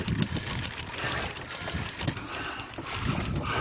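Steady wind buffeting the microphone outdoors beside a pop-up camper, a loud broadband rush with gusty swells and low rumbling thumps throughout.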